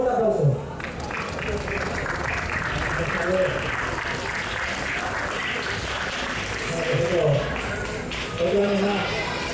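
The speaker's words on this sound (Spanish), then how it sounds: "un fuerte aplauso" An audience claps at the opening proclamation of the Andalusian fair in Leganés, a sustained crowd applause throughout, with voices calling out over it.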